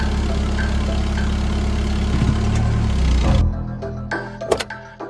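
A car engine runs steadily with a low rumble as the car drives along, then the drone drops away after about three and a half seconds, leaving scattered clunks and small knocks.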